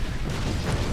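A grenade blast in Warhammer 40,000: Space Marine, a loud, dense burst of low rumble and crackle that fills the whole second without letting up.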